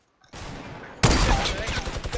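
Gunfire in the Fortnite video game: after a brief quiet start, a dense volley breaks out, then a louder, heavier burst of shots and impacts continues to the end.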